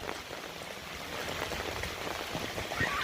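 Heavy typhoon rain pours steadily onto surfaces in Ragay, Camarines Sur, a dense, continuous patter that grows slightly louder toward the end, with no voices.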